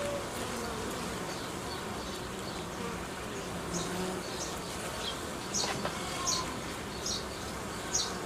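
Honeybees buzzing around a hive nucleus during colony strengthening, a steady close insect drone with several individual bees flying past louder for a moment.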